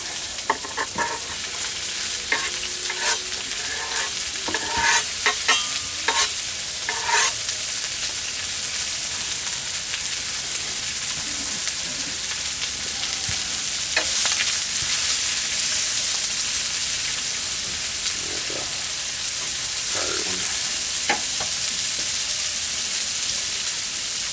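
Sausage and noodles sizzle steadily in a pan outdoors at a campsite, with scraping stir strokes and clicks of a utensil, most active in the first several seconds, over a continuous bed of frying hiss.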